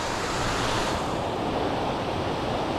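A mountain stream flows with a continuous broadband rush of water, loud and steady throughout, with no voices.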